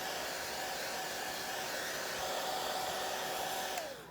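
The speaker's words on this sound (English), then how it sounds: "you can just use your blow dryer at the cool setting" A blow dryer on its cool setting runs steadily and close, blowing air to dry alcohol ink, with a constant whooshing hum that fades slightly at the end.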